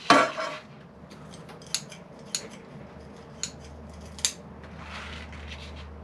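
Scissors snip juniper bonsai foliage in a handful of sharp, separate cuts, a louder cluster at the start and then single clips spaced a second or so apart over a quiet background.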